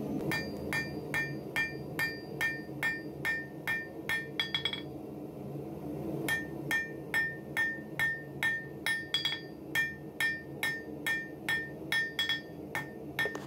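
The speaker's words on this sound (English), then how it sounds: "use the spring fullering tool to create a new set of shoulders" A hammer strikes a spring fullering tool while forging shoulders on a knife tang. The close, ringing metallic blows fall in a steady rhythm of about two per second, pause briefly, then resume at the same pace.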